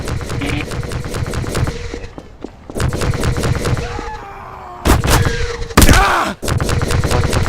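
Mark 83 bomb explosions in a bomb-testing session, heard as several loud booming blasts and bursts with rolling rumble in between, one especially strong hit near the end.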